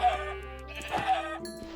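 A Minecraft sheep gives a short, close bleat in the game, a single wavering call lasting under two seconds.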